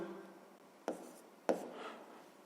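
Pen or chalk writing out a fifth-grade maths exercise by hand, heard as two short sharp strokes on the writing surface over a quiet room hiss, close and fairly faint.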